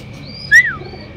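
A single sharp chirp-like call from racing pigeons, brief and fairly loud, over a faint low murmur of cooing and ambient noise.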